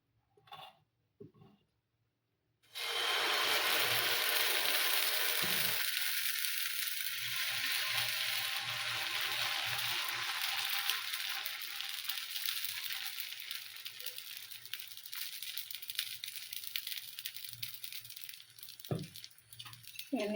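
Fenugreek leaf uttapam batter hitting an oiled griddle, a sudden loud sizzle that starts after a few quiet seconds and keeps crackling and hissing steadily, with a few light clinks near the end.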